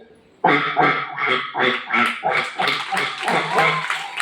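Someone mimics a duck with a rapid string of nasal quacks, about a dozen in quick rhythm, loud and close.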